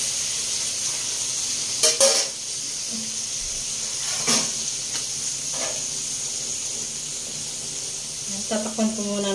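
Pork trotters fry in a pan with a constant, fairly loud hiss of hot oil, broken by a few clattering knocks and pops, with faint voices briefly in the background.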